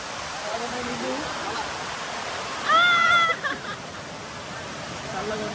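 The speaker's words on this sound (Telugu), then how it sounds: "వాటర్ ఇక్కడ చూడండి ఎంత ఫోర్స్గా అనిపిస్తుందో చూడడానికి" Forceful water rushing over the steps at Lonavala makes a steady, dense wash of noise, with a crowd chattering and a brief higher tonal sound rising over it midway.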